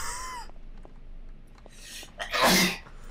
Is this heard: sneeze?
yes